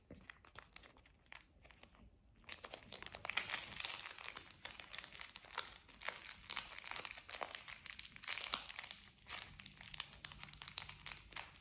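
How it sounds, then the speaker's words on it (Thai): A snack packet is folded in half and then folded again, giving close, quiet crinkling and crackling in irregular bursts, with a brief pause near the start and no talk. "ต่อไปเป็นซองขนมนะคะพับครึ่งค่ะแล้วก็พับอีก2ทบ"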